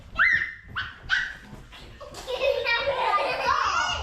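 A dog yelps and barks in short, high, excited bursts close by indoors, followed by whining and whimpering, with children's voices and chatter mixed in.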